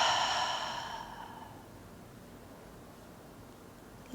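A slow exhale during a gentle vinyasa yoga flow, a soft airy breath that fades over about a second and a half and leaves quiet room tone.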